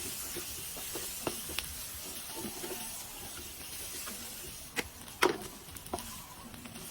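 Tomato paste sautés in a pan for Filipino mechado, giving off a soft, steady sizzle and hiss with occasional light clicks and scrapes of a utensil, close but fairly quiet.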